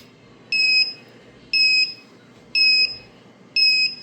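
An electronic USB timer sounds four evenly spaced, high-pitched double-tone beeps about once per second, loud and clear, with faint background hiss between them.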